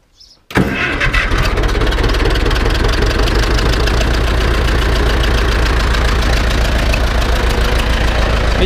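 An Ursus C-360 tractor's cold engine cranks and catches after a brief quiet moment, then settles into a loud, steady, close idle with a coarse knocking diesel rhythm that continues to the end.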